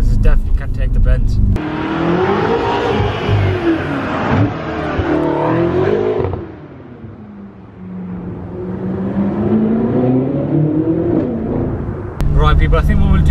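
A BMW F10 M5 Competition engine pulls hard on an open road, rising revs heard from inside the cabin, dipping once at a gear change before climbing again, loud and continuous.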